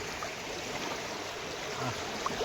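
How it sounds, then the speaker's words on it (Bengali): A strong water current rushes along a forest stream, making a steady close rushing and gurgling wash that continues without a break at a moderate level, and no talk can be heard. "কি জলটা যাচ্ছে দেখো এইখানটায়"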